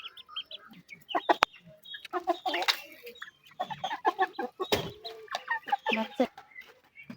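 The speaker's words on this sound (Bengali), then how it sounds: "দেখেন মুরগি খিদায় পাগল হয়ে গেছে।" Hungry chickens cluck busily and close by while feeding on scattered grain, a steady, irregular chatter of short clucks and squawks continuing throughout.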